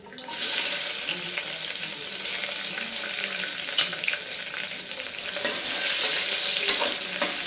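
Onions sizzle in hot oil for mutton biryani, a steady, loud, dense frying hiss that runs throughout with faint clinks and stirring, no voices.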